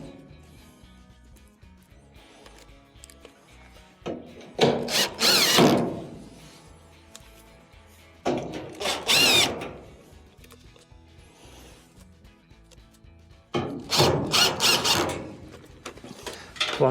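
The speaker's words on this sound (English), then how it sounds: "Next, go around and reinstall your Phillips screws." A power driver reinstalls Phillips screws on a clothes dryer bracket, whirring in three distinct bursts of a few seconds each, with quiet mechanical handling between them and no talking.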